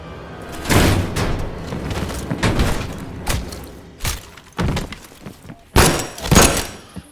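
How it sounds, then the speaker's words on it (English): A door in the video game Call of Duty: Black Ops Cold War is forced open with heavy thunks and thuds, loud and close, hitting in several separate bursts amid scraping and clattering. "Open the door."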